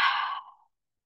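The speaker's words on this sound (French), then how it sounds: "je viens de le faire, je viens de bâiller" A person yawns once, a breathy exhale that fades out over about half a second and leaves silence behind.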